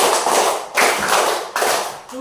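Students in an elementary classroom clap together in a rhythmic clap game, a few loud, sharp bursts of group clapping spaced in a steady beat, with voices heard between them.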